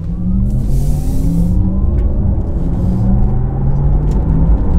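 A steady synthetic whirring hum rises in pitch as a Porsche Taycan 4S electric car accelerates, its artificial drive sound over road rumble underneath, no voices.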